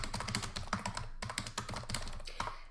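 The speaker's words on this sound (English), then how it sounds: "Whilst I'm typing," Rapid computer keyboard typing with irregular key clatter and short pauses, close and fairly loud, with no talking over it.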